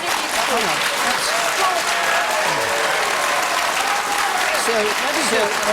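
Loud, sustained audience applause fills a televised Question Time political debate, a dense steady roar of clapping with voices talking over it throughout.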